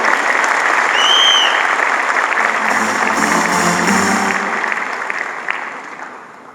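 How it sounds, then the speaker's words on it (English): An audience claps loudly and continuously for Sanjeev, then gradually tapers off. A couple of short whistles and faint voices come through the applause. "So, give Sanjeev a big round of applause again."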